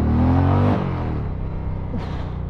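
An Indian Challenger, a heavy cruiser motorcycle of about 380 kg, with a warmed-up engine pulling hard under acceleration. The loud, close engine note climbs, dips briefly as if shifting, then rises again without any talk.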